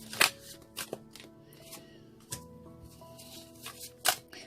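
A deck of playing cards being shuffled, with several crisp riffling bursts and soft taps spread over a few seconds against a quiet room with faint music.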